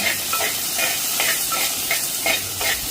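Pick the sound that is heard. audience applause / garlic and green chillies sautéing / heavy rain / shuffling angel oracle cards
garlic and green chillies sautéing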